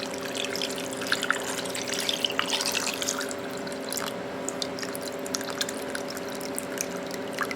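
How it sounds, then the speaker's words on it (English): Water pours and trickles into a rock tumbler barrel loaded with rocks and 60/90 silicon carbide grit, a close, steady splashing stream with faint drips, heard alone without talk. "we're just going to add water till it almost covers the rocks"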